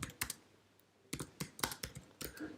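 Computer keyboard typing a chat message, quick bursts of close key clicks, a short cluster, then a pause, then a longer run of taps, quiet overall.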